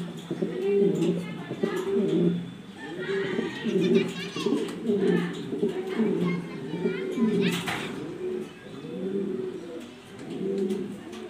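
Black exhibition-quality Danish pigeons coo in a repeated, rolling rhythm nearby, with children's voices and talk running under the calls.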